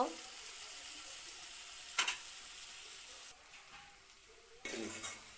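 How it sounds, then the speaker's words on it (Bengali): Chopped jackfruit seeds with turmeric and a little salt frying in a pan, a quiet steady sizzle broken by a few sharp stirring scrapes and clatters. "ভালো করে লাল লাল হয়ে ভাজা হইব"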